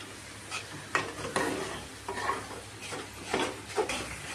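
Raw mango jam is stirred in a pan with a spoon, giving repeated scraping strokes roughly every half second over a soft sizzle, close and moderately loud with no talking.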